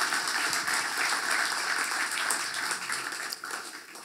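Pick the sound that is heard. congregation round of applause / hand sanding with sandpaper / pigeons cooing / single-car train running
congregation round of applause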